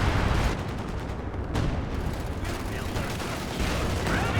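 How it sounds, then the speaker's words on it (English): Artillery fire in the World War II strategy game Company of Heroes 2, a dense wall of heavy blasts and rumbling impacts on a 3v3 battlefield, with bursts of gunfire layered in and a voice talking over the constant din. "It's artillery from a major there getting some solid hits."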